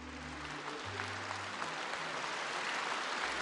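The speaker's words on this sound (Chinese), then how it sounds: "掌声欢迎他。" An audience at a televised children's choir concert applauds to welcome a singer, a thick, even wash of clapping throughout, with faint music tones underneath at the start.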